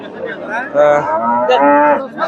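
A crossbred dairy cow moos at a busy cattle market at Chandaikona, Bangladesh, giving two or three long, loud, close calls with no talk over them.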